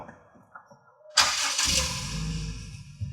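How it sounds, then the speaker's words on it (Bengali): A 2020 Toyota HiAce Super GL with push-button start cranks briefly after quiet interior clicks, then catches and settles into a smooth, low, steady idle heard from inside the cabin, with no talk. "গাড়িটি হচ্ছে পুশ স্টার্ট তো অ্যাট ফার্স্ট আমি গাড়িটি স্টার্ট করব"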